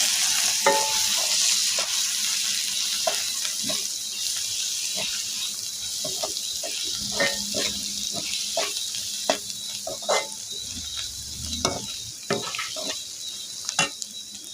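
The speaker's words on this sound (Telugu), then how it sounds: "1 స్పూన్ కారం వేసుకోవాలి. ఇదంతా బాగా కలుపుకోవాలి." A spoon scrapes and clinks repeatedly against a pan while a steady hiss of frying runs underneath, continuing for several seconds, as turmeric and chilli powder are stirred in.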